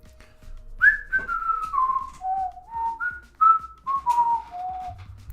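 A person whistles a short melodic tune of about ten sliding notes, clear and close in a quiet room, with no talking.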